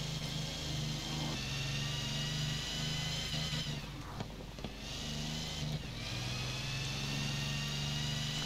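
A Napier Railton with its 24-litre aero engine, driven in Forza Horizon 4, revs with a steady droning whine and layered harmonics, dips briefly as the throttle lifts, then climbs back to a sustained roar.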